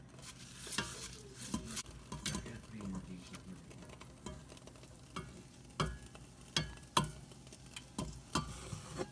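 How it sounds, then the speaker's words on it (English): A spoon stirring dehydrated onions into simmering mushroom soup in a pot, with scraping and soft sizzling under irregular clinks against the pot sides, fairly quiet and close. "and she's going to stir it all up in there."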